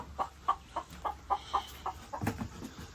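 Hens in a chicken coop give a series of soft, evenly spaced clucks, about a dozen short calls, faint and fairly close, with no speech.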